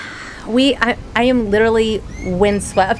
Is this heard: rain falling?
no